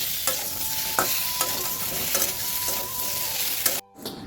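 Salt and turmeric frying in oil in a pan for a fish curry, giving a steady close sizzle broken by regular clinks and scrapes of a spoon stirring, with a brief drop to near silence near the end.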